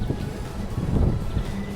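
Wind at Werribee Station in Melbourne gusts steadily across the microphone, a close, low roaring rumble that swells and eases over a couple of seconds with no voices.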